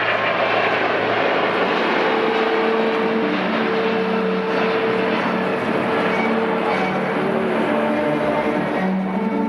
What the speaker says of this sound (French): Rotation at 120 knots, and the Queen of the Sky lifts into the air in sunshine over the Bourget.